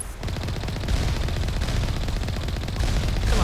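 Rapid gunfire in the video game Mass Effect, a dense, loud burst of shots that continues without pause for a few seconds.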